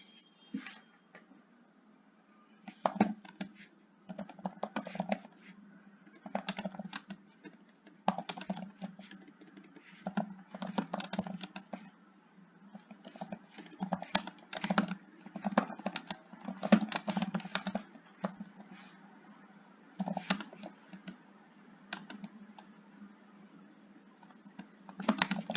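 Keys tapped on a computer keyboard in uneven bursts with short pauses between, close and fairly quiet, carrying on alone for the whole stretch without any voices.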